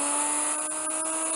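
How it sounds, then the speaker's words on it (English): A drill bit bores into a whirligig fishing-lure workpiece at high RPM with slow feed, giving a steady high whine broken by a few faint rhythmic scraping ticks. "the drill bit found grip in the indention, and now I start drilling"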